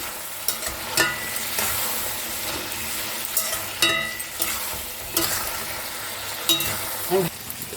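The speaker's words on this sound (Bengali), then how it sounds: "এটা ফুল ফ্লেমে দিয়ে এটাকে ভাজতে হবে" Chicken pieces for Mughlai chicken fry over a full gas flame with a loud, continuous sizzle, and stirring scrapes and clinks cut through the oil's crackle.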